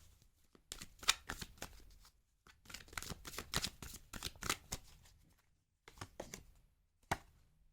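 Tarot cards shuffled and added to the deck in quiet, close riffling bursts separated by short pauses.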